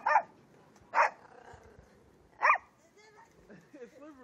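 A dog barks three times, well spaced, at moderate distance during a blizzard outdoors by a porch, with faint voices and wind noise in between.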